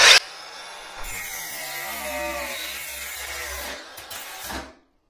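An angle grinder cuts through drywall on a construction job, starting with a sharp burst and then a steady, loud abrasive whine with rough grinding texture for several seconds before it cuts off abruptly.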